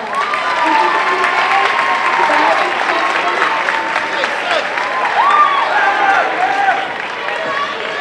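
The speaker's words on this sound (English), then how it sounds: "Let's give them a round of applause." A school honor roll assembly audience applauds loudly, a thick sustained wash of clapping with cheers and shouts from students throughout.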